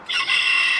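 A gold bantam chicken calls out loudly and close by, a short crowing burst with no talk over it.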